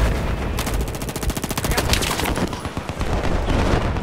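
Rapid automatic gunfire from the video game Battlefield 4, played on the Gulf of Oman map in a close-quarters conquest match, rattles in loud repeated bursts with dense shot after shot over busy battle noise.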